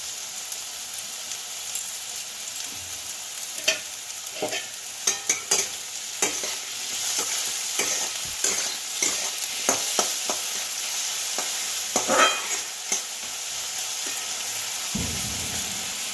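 Onion and potato pieces fry with a little salt in a pan, making a steady close sizzle broken by repeated scraping stirs and clatters. No one speaks.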